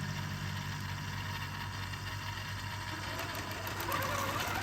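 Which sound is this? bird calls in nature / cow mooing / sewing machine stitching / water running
sewing machine stitching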